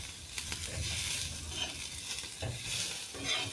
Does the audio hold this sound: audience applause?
no